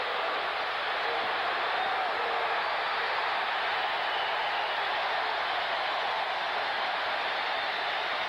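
A large football stadium crowd at a 1988 Buffalo Bills home game against the Minnesota Vikings, giving a steady, broad roar. It stays loud and even throughout with no distinct voices.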